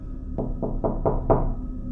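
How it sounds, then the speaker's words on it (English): Five firm knocks on a door in a quick, even rhythm, close and clear against a quiet room with no voices. "suddenly there was a knock at the door"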